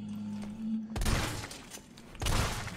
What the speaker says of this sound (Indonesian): Ini kita coba shotgun.